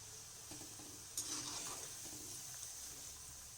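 Rawa suji fries sizzle steadily in a pan of hot oil, a continuous bright hiss with a few soft stirring knocks, heard close and without talk.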